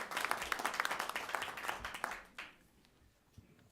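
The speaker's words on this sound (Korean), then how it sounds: "큰 박수로 맞아주길 부탁드리겠습니다." Crowd at a Korean political policy forum gives a presenter a warm welcome with dense, steady applause for over two seconds, then it stops abruptly and leaves quiet room tone with a faint shuffle.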